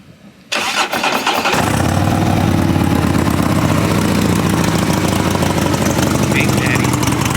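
A built 131 Harley-Davidson Road Glide motorcycle cranks and fires up with a sudden loud roar, then settles into a rumbling, lumpy idle that stays close and continuous.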